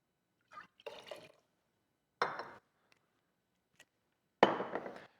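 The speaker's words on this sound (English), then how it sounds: "I'm going to do 4 ounces of the Grappa, followed by 2 ounces of the Riesling." Grappa and then Riesling are poured for a cocktail in three short splashy bursts of liquid with a faint clink between them, quiet and close, with silence in between.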